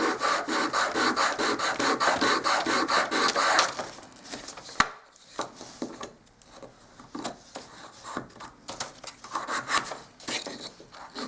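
Hand sanding across the end grain of a wooden hall table, a steady run of rapid back-and-forth rasping strokes that pauses briefly, then resumes in lighter, irregular scrapes.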